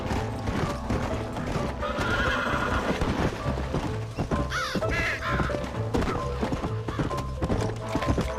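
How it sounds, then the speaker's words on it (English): A horse gallops with rapid clip-clop hoofbeats and lets out a neigh in the Red Dead Redemption video game, with crows cawing and a short spoken line over the steady game soundscape. "Giddy up. Get after him."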